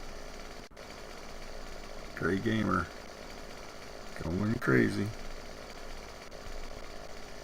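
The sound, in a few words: chainsaw cutting trees in Farming Simulator 2017 video game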